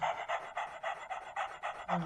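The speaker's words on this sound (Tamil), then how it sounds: "ஓடே நம்மளுக்கு ஒரு நாய் கிடைக்கும் மக்களே." Panting from a dog in the video game Into the Dead 2, quick, even, rhythmic breaths repeated about eight times, close and steady.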